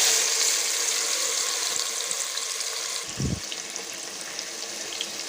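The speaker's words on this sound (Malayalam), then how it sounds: "ഇനി ആ എണ്ണയിലേക്ക് നമ്മൾ ഈ മാരിനേറ്റ് ചെയ്ത് വെച്ചേക്കണ ചെമ്മീൻ നമുക്ക് അതിനകത്തേക്ക് ഇട്ട് കൊടുക്കാം." Marinated prawns sizzle in hot oil with a bright, hissing crackle that eases over a few seconds, and a single soft thud lands midway.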